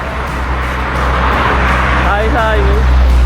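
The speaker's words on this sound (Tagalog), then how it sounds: "Ang bibilis na sasakyan dito men." Fast cars rush past on a roadside while a family walks, a loud rising whoosh of engines and tires close by, with people talking over the traffic.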